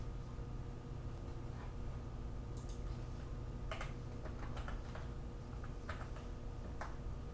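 Scattered keystrokes on a computer keyboard while entering a username and password during a Kali Linux install, soft irregular clicks in small bursts over a steady low hum.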